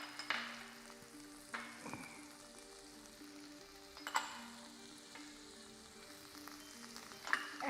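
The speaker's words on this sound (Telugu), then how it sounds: "నెక్స్ట్ మనం దీంట్లో ఉల్లిపాయలు వేసుకుంటున్నాం. దాంతోపాటు different kinds of bell peppers వేస్తున్నాను." Onions and bell peppers fry quietly in a pan while Pad Thai noodles are made: a faint, steady sizzle broken by a few sharper crackles and stirring clicks, with no voices.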